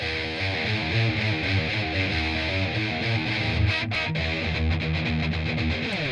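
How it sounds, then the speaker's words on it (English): Raw heavy distorted electric guitars played through a mic'd Celestion Vintage 30 speaker cabinet, a dense, loud, continuous riff with chugging rhythm and no talk. "And that is the sound of the Vintage 30."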